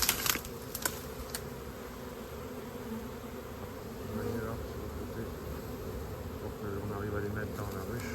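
A honeybee swarm buzzing around a hive, a faint continuous droning hum with a few sharp knocks at the very start.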